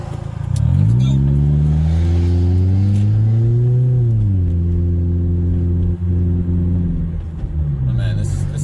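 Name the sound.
warmed-up 2009 Pontiac Vibe engine running and revving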